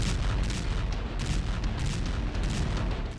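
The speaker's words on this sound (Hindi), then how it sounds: "जिस पर बीती रात रूसी सेना ने आसमान से भीषण बमबारी की" A Russian artillery bombardment hits a building in Kharkiv, heard as a dense, continuous rumbling roar of booming fire, loud and unbroken across the whole stretch.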